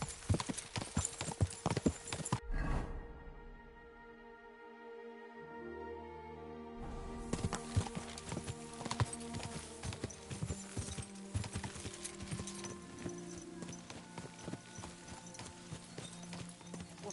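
Horse hooves clip-clop in a medieval setting in Kingdom Come: Deliverance II, crisp repeated close hoofbeats that break off briefly mid-stretch, then resume in a busy, steady rhythm, with faint game voices in the mix.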